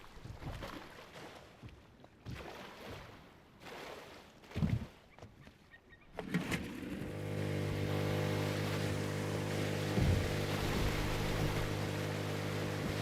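In the game Rust, quiet rustling and scattered movement noises give way to a vehicle engine that starts up and keeps running in a steady, loud hum through the rest of the clip.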